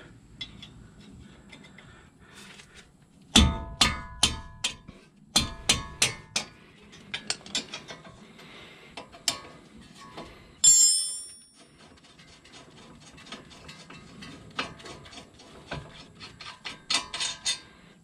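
A 19 mm ratchet loosens the caliper bracket bolts on a Honda brake, with close bursts of rapid ratchet clicking, short pauses between strokes and one sharp metallic clank partway through.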